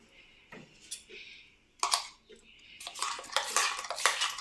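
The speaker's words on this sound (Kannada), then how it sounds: "ಎಲ್ಲ ಸ್ಪೂನಲ್ಲಿ ಮಿಕ್ಸ್ ಮಾಡ್ಕೋಬೇಕು" A spoon clinks and scrapes against a dish while mixed vegetable pickle is stirred, with light metallic taps that grow into brisk, close scraping toward the end.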